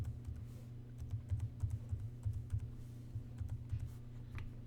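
Quick, quiet keystrokes on a computer keyboard while a password is typed, soft uneven clicks in short bursts with brief pauses, close and faint.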